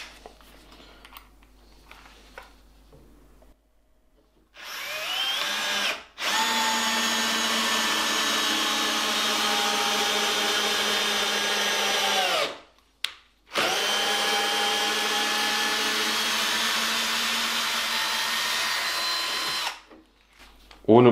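A 12V cordless drill driver in first gear drives a screw, its motor whining steadily in two long loud runs separated by a brief stop, with short pauses before and after.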